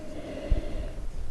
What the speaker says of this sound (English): And then you want to take a good sniff.